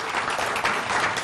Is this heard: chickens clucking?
no